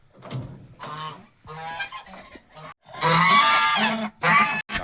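Geese honking in a loud, noisy burst of repeated calls, some overlapping into a raucous chorus, close by with short pauses between outbursts.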